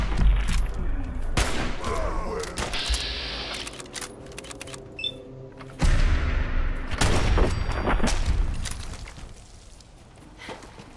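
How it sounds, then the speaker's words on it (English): High-powered rifle fire in Fallout 4: sharp, loud shots crack out in irregular bursts and volleys, with quieter gaps and lingering echoes between them. "He's got a high-powered rifle."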